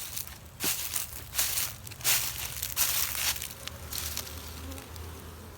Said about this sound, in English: Busy hives there, getting ready for spring.